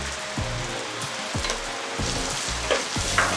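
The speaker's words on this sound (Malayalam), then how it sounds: "നമ്മുടെ അരിഞ്ഞു വെച്ച ഉള്ളിയും കൂടി ഞാൻ ഇതിലേക്ക് ആഡ് ചെയ്ത് കൊടുക്കാം." Chopped onions hit hot oil in a pan while cooking beef ularthiyathu, giving a steady close sizzle with repeated stirring scrapes and clatters throughout and no speech.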